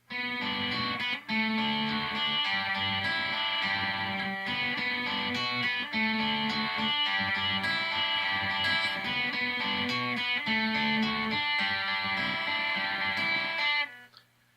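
A distorted electric guitar plays the opening riff of a song with a steady, driving rhythm, loud and continuous, then stops abruptly near the end.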